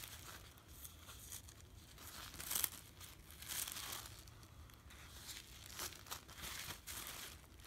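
Soft, steady crinkling and rustling of thin paper as the cut pieces of a vintage sewing pattern are handled and unfolded, quiet and close, with a few slightly sharper crackles along the way.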